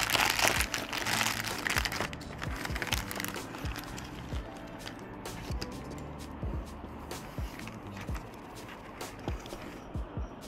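Diecast toy packaging is opened, with crinkling plastic, rustling and scattered taps and knocks, close and fairly quiet, with brief speech between the handling noises.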